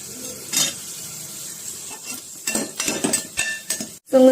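Onions sautéing in a pan with green chili and cashews for ghee rice, soft sizzling under sharp clinks and scrapes of a spoon stirring against the metal pan, close and intermittent, with a louder clatter at the end.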